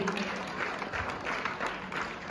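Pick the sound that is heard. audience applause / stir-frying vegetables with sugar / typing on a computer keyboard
audience applause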